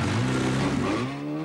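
Rally race car engine revving loud and close in a short burst, the tone climbing and then easing back slightly as the throttle is held.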